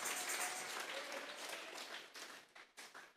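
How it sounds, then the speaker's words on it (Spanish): A church congregation claps and applauds during a sermon, a dense, sustained wash of many hands that thins into looser, uneven claps toward the end, with no speech over it. "Vamos a regalarle ofrenda de palmas al Dios de la gloria."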